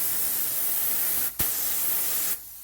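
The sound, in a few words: paint spray gun test spray of primer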